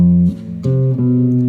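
A few sustained triad chords ring out one after another, root position F then first inversion G, each change clearly stepping to a new harmony, played cleanly and fairly loud.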